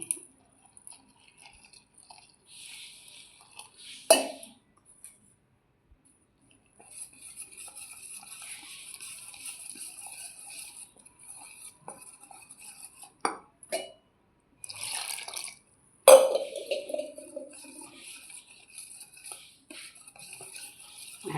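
Water is poured into wheat flour dosa batter in a bowl and stirred by hand, giving intermittent wet mixing, scraping and clinking sounds with brief pauses and a few sharper knocks, close and fairly quiet.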